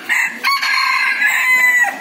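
A Talisayin gamefowl rooster crows close and loud, one drawn-out cock-a-doodle-doo with a few rising syllables and a sustained tail, clear with no background talk.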